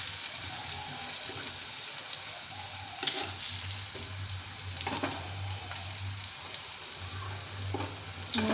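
Chopped onion frying in a pan for a bhaji gives off a steady, moderate sizzle, with a few sharper clatters of stirring scattered through. A low hum runs beneath it.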